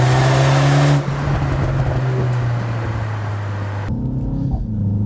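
A 2024 BMW X2 M35i in sport mode drones loudly from inside the cabin, engine note steady with crackling exhaust burbles, then dropping off sharply near the end as the throttle lifts.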